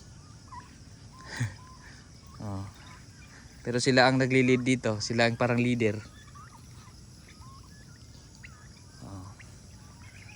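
Turkeys gobble in a short, loud, dense burst on a small farm, with a faint earlier call, while someone talks in Tagalog before and after.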